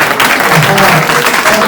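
A large gathering of university students bursts into loud, sustained applause, a thick, steady patter of many hands clapping together close by.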